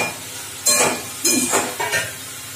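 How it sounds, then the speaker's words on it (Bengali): Fried pointed gourd and potatoes stirred into hot masala, three distinct bursts of scraping and sizzling as the spatula turns the pieces, quiet pauses between. "আলু আর পটল দিয়ে আমি সুন্দর করে এটা সুন্দর করে নেড়ে নেড়ে দিচ্ছি।"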